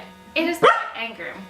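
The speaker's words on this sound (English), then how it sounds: "That's my dog, sorry." A dog barks once, sharp and fairly close, in a home, cutting into someone speaking indoors.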